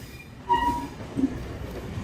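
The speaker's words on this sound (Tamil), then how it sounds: "நாம விசாகப்பட்டினம் ரயில்வே ஸ்டேஷனுக்குள்ள என்டர் ஆயிட்டு இருக்கோங்க" A train rumbles low and steady, with a brief metallic wheel squeal and faint clatter as it rolls slowly into Visakhapatnam railway station; the Bengaluru–Visakhapatnam express.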